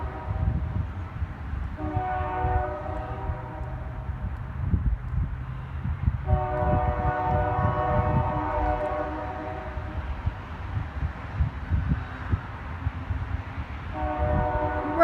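A train rolls past with a steady rumble of wheels and cars, broken by three long, loud horn blasts at intervals.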